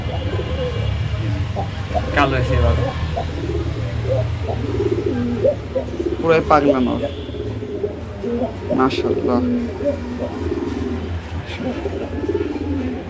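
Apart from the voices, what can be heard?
Lakkha pigeons cooing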